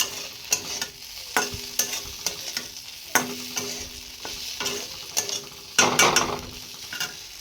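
A spoon stirs food in a pan on a gas stove, with steady frying sizzle under a series of sharp metallic scrapes and knocks, fairly close and without talk.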